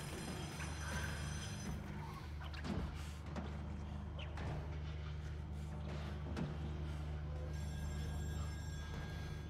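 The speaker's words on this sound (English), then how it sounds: "Oh, okay. I'll answer the phone." A telephone rings in the video game Still Wakes The Deep, repeated bell-like trills at a faint level, with occasional thuds and ambient rumble in between.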